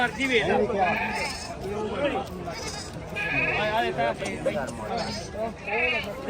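Several goats bleat repeatedly over a busy crowd at a goat market, voices of people talking mixing with the overlapping animal cries.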